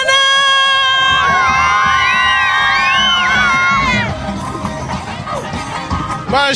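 A school carnival crowd at Colegio Laura Wernet-Paskel lets out a loud, sustained group pirate shout of many overlapping high voices, then breaks into busy cheering and chatter.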